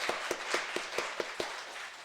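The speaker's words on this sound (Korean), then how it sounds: "우리 박수로 한번 우리 합시다." A church congregation claps in a steady rhythm of about seven claps, moderately loud and somewhat roomy, with no voices over it.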